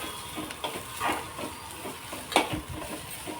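Onions fry in a pan for a rustic country chicken curry, a soft steady sizzle broken by the scrape and tap of stirring.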